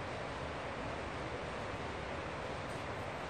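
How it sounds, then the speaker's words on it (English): Faint lapping of water by a lakeside campsite at Sourgrass, California, a soft, steady wash of low noise with no voices over it. "Can you hear the water?"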